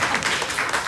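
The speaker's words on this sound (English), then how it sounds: "Can I get a round of applause for that," Brief burst of audience applause during an interview event in Malaysia, steady dense clapping filling the moment.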